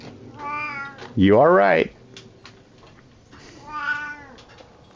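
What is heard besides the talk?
cat meowing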